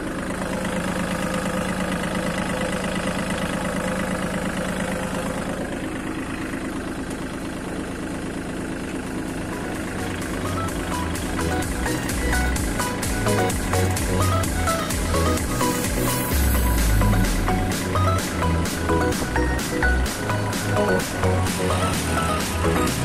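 A John Deere L4018 four-wheel tractor engine runs steadily at 540 PTO RPM while ploughing a rice paddy, a continuous loud mechanical drone that grows rougher and heavier in its second half, with no talk over it.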